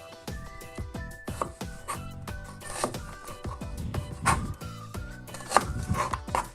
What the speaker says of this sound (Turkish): Şöyle soğanlarımızı doğrayacağız. Çok ince bir şekilde